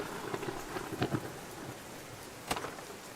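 Thunder and rain from the video game Outbound: steady rainfall throughout with a couple of short, sharp thunder cracks, moderately loud with no talking.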